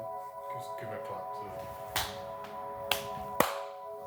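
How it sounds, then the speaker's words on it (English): A single sharp hand clap, then two more crisp claps, over a low steady room hum; nearby, moderately loud, each a brief isolated crack. "I'll do one uniform clap"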